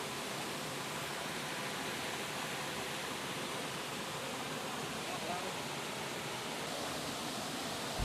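Fast-flowing river rapids in the Batang Asai area of Jambi give a dense, unbroken roar of rushing water, steady and fairly loud throughout.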